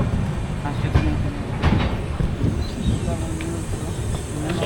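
Passenger train rolling along the rails near Chirala station, a loud, close rumble with rhythmic wheel clacks and a faint high whine running throughout.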